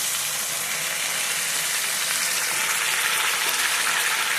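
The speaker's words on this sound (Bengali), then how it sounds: "মশলা একটু তেলে ছিঁড়ে দিতে এখন অল্প পরিমাণ জল দিয়ে দিব" A small amount of water hits spices frying in hot oil, setting off a continuous, bright hissing sizzle. It stays steady and close from start to finish with no voices.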